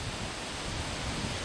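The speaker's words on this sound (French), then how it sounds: "il y a du vent partout" Strong wind blows outdoors, buffeting the microphone with a continuous broad roar that stays steady and loud throughout.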